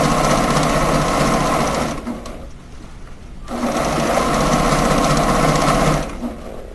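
Sewing machine stitching beret fabric, a loud steady mechanical whir that stops for about a second and a half in the middle, then runs again before easing off.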